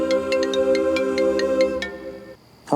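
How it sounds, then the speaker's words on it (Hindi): A mobile phone ringtone plays a repeating melodic tune with regular chiming notes, then stops abruptly near the end as a faint sound follows. "तुम्हारा फोन बज रहा है"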